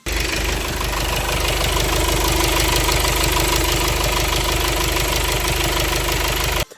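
A Volkswagen Passat engine runs at a steady, loud idle with a rhythmic mechanical rumble, close up, then cuts off abruptly.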